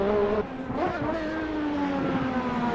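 A simulated race car engine in Assetto Corsa runs steadily at high revs, its tone rising and dipping slightly as it nears the rev limit, loud and continuous with a brief dip early on.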